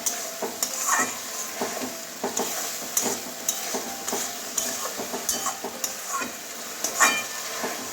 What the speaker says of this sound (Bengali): অল্প একটু জল দিয়ে মশলাটা ভালো করে কষিয়ে নেব।